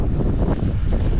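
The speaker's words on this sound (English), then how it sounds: "It is very windy" Heavy wind at a bike park buffets the microphone, producing loud, low rumbling gusts that fluctuate throughout.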